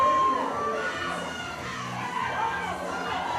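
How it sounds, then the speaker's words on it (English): A crowd cheers and shouts encouragement for an athlete straining through final reps at a WICO Summer Showdown fitness competition, a steady wash of voices and calls heard from a distance. "Crowd urging him on."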